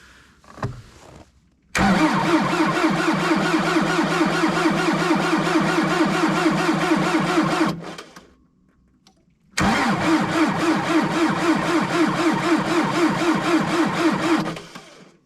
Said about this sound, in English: I think that's about enough beating on the starter for now.